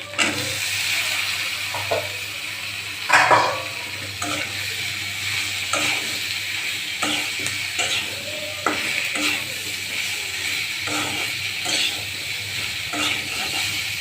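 Boiled potatoes and pointed gourd sautéing in spiced oil: a steady, close sizzle runs throughout while a spoon stirs and scrapes the pan now and then.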